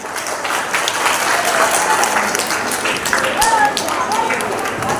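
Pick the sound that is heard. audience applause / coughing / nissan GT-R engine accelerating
audience applause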